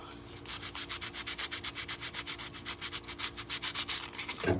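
60 grit sandpaper scuffing the plastic hull surface of a 1:200 Trumpeter RMS Titanic radio-control model, a rapid even back-and-forth rasping of about four strokes per second, close and alone.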